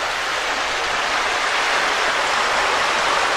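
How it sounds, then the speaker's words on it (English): Sherman's Creek flows beneath the steel-beamed New Germantown covered bridge in Pennsylvania, a dense, steady rushing of water that continues unbroken and fairly loud throughout, with no voices. "I wonder if the sound of the creek is like resonating off the steel beams a little bit."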